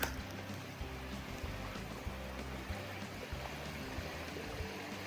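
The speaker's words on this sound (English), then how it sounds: "Overlooking the brook." A brook flowing near a base camp during an April snowfall produces a steady, low water rush with faint trickling, continuous and unchanging throughout.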